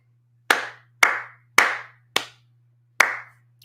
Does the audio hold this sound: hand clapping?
yes